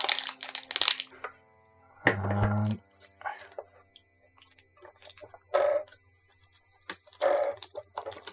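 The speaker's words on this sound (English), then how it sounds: "I have to unwrap this one too." DJI Phantom 4 Pro packaging is unwrapped up close in short, separate bursts of crinkling and rustling plastic, with a brief thud and quiet pauses between them.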